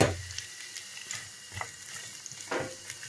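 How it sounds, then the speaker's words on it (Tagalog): Onions frying in a pan for burgers, a soft steady sizzle with occasional scraping stir sounds at a few points, close and fairly quiet with no talking. "Ako nang ilunod ang onions kay magluto ako ng burger."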